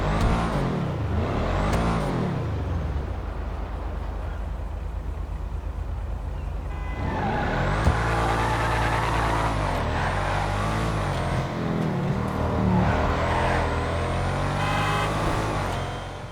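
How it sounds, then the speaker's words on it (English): Benefactor Schafter V12 engine in a GTA game, a sustained loud engine drone with rising and falling revs and pitch sweeps running continuously for about sixteen seconds. "This is a really great sounding car. I think it might share the engine note with the free car we looked at, which was the Schafter V12, but a really great engine sound"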